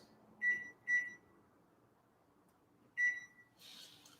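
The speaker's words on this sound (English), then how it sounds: "Let me put this timer on for 23 minutes." A kitchen timer being set gives three short, sharp electronic beeps, two close together and one after a pause, fairly near in a quiet room, ending in a brief rustle.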